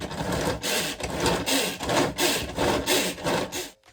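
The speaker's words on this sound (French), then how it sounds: "je vais tirer sur une petite poignée qui fait tourner à l'intérieur le couteau de façon à hacher le plus fin possible mes oignons et mon ail" A pull-cord chopper spins its blades to mince onions and garlic, giving about eight rhythmic whirring, rattling bursts, one per pull, close and steady before stopping abruptly.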